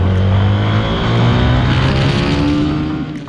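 A CF Moto 250 SR motorcycle pulls away in first gear, its engine note rising steadily with a loud, close, even drone that eases off toward the end.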